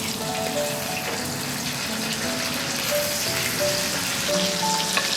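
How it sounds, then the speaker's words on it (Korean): Bacon sizzles and crackles in a pan of cooking garlic, a steady close frying hiss with scattered pops and no talking. "베이컨을 넣어줄게요."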